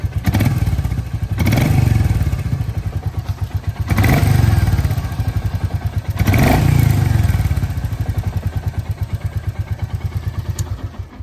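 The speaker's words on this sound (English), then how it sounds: "the engine's a bit knocky" A nearby Royal Enfield Meteor 350 motorcycle engine revs in three surges, each dropping back with a rough, clattery knocking pulse as it winds down.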